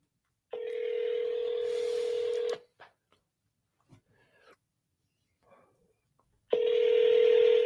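Telephone dialing tones on a cold call, two long loud steady tone bursts separated by a quiet gap with faint clicks and small noises.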